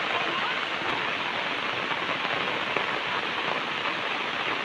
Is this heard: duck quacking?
no